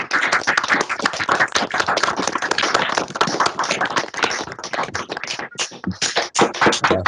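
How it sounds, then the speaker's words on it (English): Online meeting participants clap over unmuted microphones, a fast, dense patter of many overlapping hand claps that is loud and close and thins toward the end, with no talking. "we try and give a round of applause if anyone can unmute their mics"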